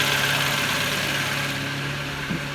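A 2007 Ford Focus 1.6 engine idles steadily after its coolant has been bled, giving a constant, even mechanical hum with a faint low drone and no voices.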